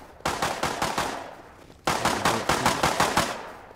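Rapid bursts of gunfire in the survival game Rust ring out loud and close, two volleys of sharp repeated shots separated by a brief pause, with no talking.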